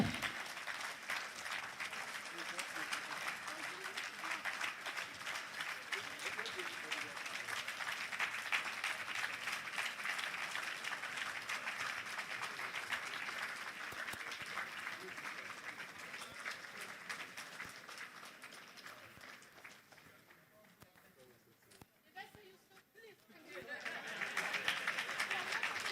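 Audience at an annual conference afternoon session applauds in a sustained, dense wash of clapping that fades and thins briefly near the end before swelling again.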